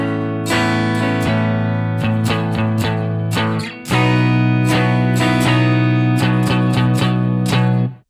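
An electric guitar strums barre chords in a dense rhythmic pattern, loud and close with steady chord changes, a brief dip before a fuller, heavier section, with no talking.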